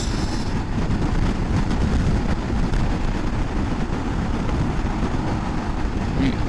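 A Honda ADV 350 scooter cruises on the open road at a steady pace, with a constant low engine drone and heavy wind rush on the microphone throughout.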